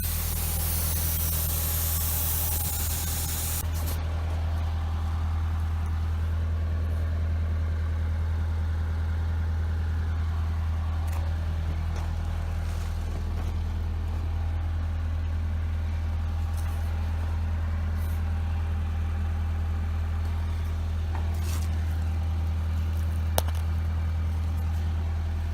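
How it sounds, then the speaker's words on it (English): An air carbon arc gouger roars steadily while it cuts out an old weld on a loader quick attach. The harsh, hissing blast continues at close range without a break, over a low electrical hum. "So the best way to repair this, something like this, is with a gouger."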